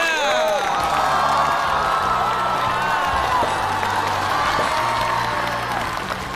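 Audience applause with cheering and whoops on a Chinese comedy show, steady and dense for several seconds with music underneath.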